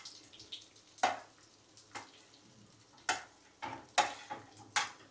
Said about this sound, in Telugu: మనం దీంట్లో ఉల్లిపాయ పచ్చిమిర్చి వేసుకొని మనం కొంచెం నూనెలో ఇలా తిప్పుదాం